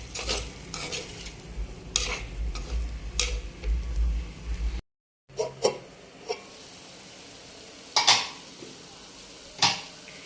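Spice powders sautéed in a pan for a Kerala-style chicken roast, with repeated scraping stirs of a spoon against the pan over a low sizzle, close and fairly quiet.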